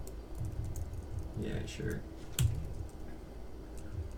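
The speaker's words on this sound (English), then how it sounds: "resume the typing" Typing on a computer keyboard during a JavaScript coding session, soft key clicks running steadily under a voice that speaks briefly.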